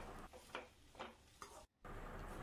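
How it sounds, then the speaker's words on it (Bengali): Sliced onions sizzle in hot oil as they are stirred for mutton biryani, with a few scraping strokes of the spoon over a steady frying hiss and a brief dropout near the end. "স্লাইস করা পেঁয়াজগুলো এর মধ্যে দিয়ে নাড়াচাড়া করে আমি পেঁয়াজটা ভেজে নেব"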